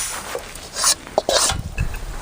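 Sesame seeds fry and crackle in a pan while a spoon stirs and scrapes, giving sporadic scratchy clinks and soft sizzling bursts, close and moderately loud with no talking.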